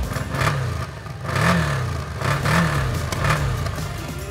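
Quad engine fitted with a different exhaust line, running close by with a pulsing, rhythmic low throb rising and falling about once a second, rougher like a twin-cylinder motorbike.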